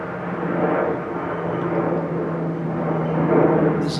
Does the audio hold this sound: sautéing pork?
no